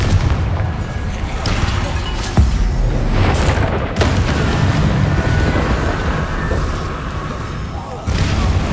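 The Confringo spell in Hogwarts Legacy bursts in loud, booming explosions, with several heavy blasts and crackling debris following one another, as a voice speaks in between.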